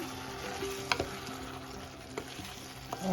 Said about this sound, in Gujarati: હવે છે ને આપણે ફરીથી હલાવી લેવાનું છે.